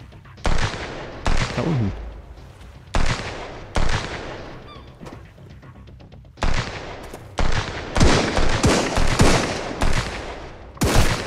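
Gunfire in the survival game Sunkenland: repeated loud, sharp shots in irregular bursts, some rapid volleys, with a brief spoken voice between them.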